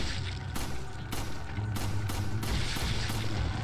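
Gunfire in the video game Resident Evil 4: a series of sharp, loud booming shots spread at uneven intervals over steady game background noise.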